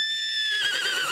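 A man imitates a horse neigh with his voice, a single loud, high whinnying cry lasting about a second, heard on its own.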